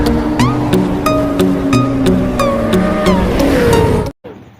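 A Honda XRM125 motorcycle, wet from rain, cranks but will not start, giving a loud, uneven churning engine sound for several seconds before cutting off abruptly.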